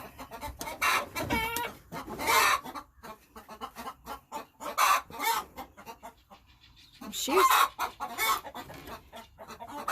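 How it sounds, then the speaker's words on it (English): A hen clucks repeatedly at close range in bursts of agitated, rhythmic calls, with short pauses between bursts and a person speaking briefly. "tell that chicken don't peck me"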